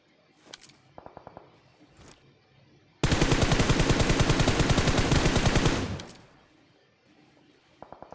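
Sustained automatic gunfire from the battle royale game BGMI, a dense rapid burst lasting about three seconds at close range, with a few short isolated shots before and after, no talk over it.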